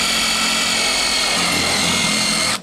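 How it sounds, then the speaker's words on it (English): A power drill with a hole saw cuts through wood during an electrical panel upgrade, a loud, steady high whine with broadband grinding that holds for several seconds and then cuts off abruptly. "Let's drill that wood out, and then we'll drill through"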